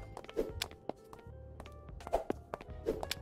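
Footsteps in Trader Life Simulator 2 on a snowy day, heavy, dull thuds at a steady walking pace, close and distinct, with faint background game sounds.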